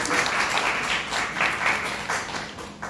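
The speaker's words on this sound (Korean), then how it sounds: "박수 한번 부탁드리겠습니다" Audience applause at an ASUS X570 motherboard influencer seminar, a few seconds of steady clapping from the crowd that swells and eases, with no talk over it.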